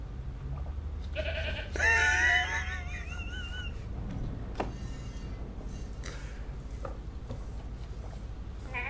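A goat bleats in a couple of wavering, drawn-out cries early on, moderately loud over a steady low background hum, followed by faint scattered noises with no talking.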